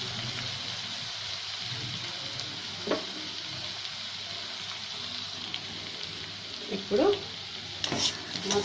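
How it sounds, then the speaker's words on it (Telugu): Potatoes fry in a pan, a quiet continuous sizzle with occasional spatula scrapes and a few louder stirring knocks toward the end, no talking. "బంగాళదుంపలు వేగడానికి టైం పడుతుంది"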